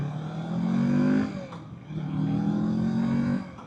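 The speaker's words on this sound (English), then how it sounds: "nice clunk into gear out of that transmission" A 2024 Kawasaki Z650 naked motorcycle accelerates hard, its engine note climbing, dropping briefly at a gear change, then pulling and rising again, close and loud with steady wind rush.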